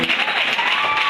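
Congregation applauding at a church gathering, a dense, loud burst of clapping filling the short moment, with voices mixed in the crowd noise.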